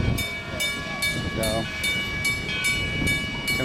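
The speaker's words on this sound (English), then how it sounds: "comes the train into the station" A steam train pulls into the station at Greenfield Village, loud and near with a sustained whistle-like tone and rumbling chuffs, while a voice speaks briefly.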